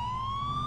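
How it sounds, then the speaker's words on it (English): Police car siren in the video game GTA IV, a loud, close electronic tone holding steady and rising slightly in pitch, sounding alone over a low engine rumble. "I had sirens on,"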